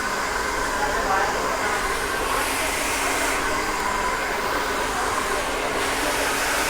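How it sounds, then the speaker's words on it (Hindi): A hair dryer blows on curled hair with a steady, even whoosh of airflow that stays constant and fairly loud from start to finish. "अभी हम फ्रंट से ड्रायर कर रहे हैं।"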